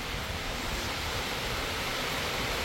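Heavy monsoon rain pours down outside a third-floor flat. It makes a dense, steady roar that does not change, and no one speaks.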